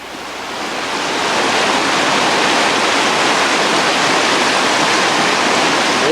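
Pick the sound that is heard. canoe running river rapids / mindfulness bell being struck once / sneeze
canoe running river rapids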